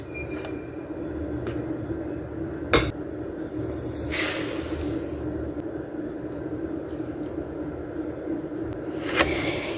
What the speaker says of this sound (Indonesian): kocok telur, gula, dan vanili.